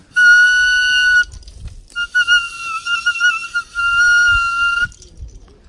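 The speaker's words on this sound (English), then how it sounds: "the whistle is what they use for their most sacred rituals" Native American ritual whistle blown close and loud in two long, shrill, wavering blasts, separated by a short pause, with faint rustling beneath.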